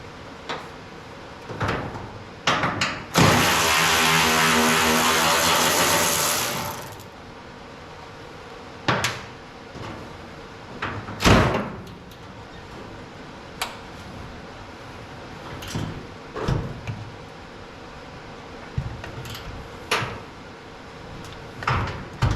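On a truck front end, a power tool buzzes loudly for a few seconds as hood bolts are spun out, followed by scattered metallic clunks, taps and knocks as the hood is shifted and lifted free.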